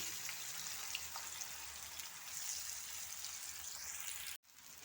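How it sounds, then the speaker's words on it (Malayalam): Pieces of green plantain fry in hot oil in a pan, giving a soft, continuous crackling sizzle at low volume, with a brief dropout near the end. "അപ്പോൾ പാനിൽ എണ്ണ ചൂടായിട്ടുണ്ട് ഈ പച്ചക്ക ഓരോന്നായിട്ട് അങ്ങോട്ട് നിരത്തി കൊടുക്കാം"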